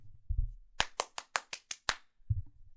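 Seven sharp hand claps in a steady, slightly quickening rhythm, close and loud, with brief murmured talk before and after.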